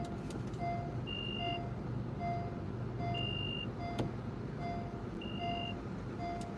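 A heavy truck reverses on a road-construction site with a repeating alarm, evenly spaced warning beeps sounding steadily over a low engine rumble and distant traffic.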